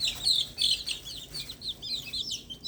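Chickens and a rooster vocalize as a flock, high-pitched chirps and calls repeating irregularly over a soft background, fairly close with no talking.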